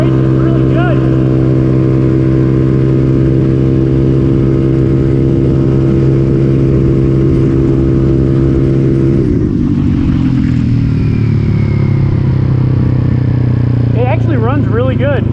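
A motor scooter engine needing jetting drones loudly and steadily, then its pitch shifts as it accelerates partway through, with a voice talking near the end.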